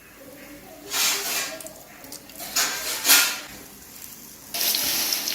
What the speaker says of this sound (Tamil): இதுக்கு கொஞ்சம் ஆயில் ஊற்றிடுவோம்.